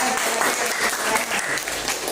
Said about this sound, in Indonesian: kasih tepuk tangan untuk Mia